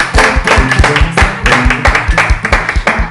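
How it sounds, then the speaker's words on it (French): Applause for the winners at a French local event, loud and close: a steady stream of many hands clapping with sharp, rhythmic individual claps running throughout. "on applaudit les gagnants"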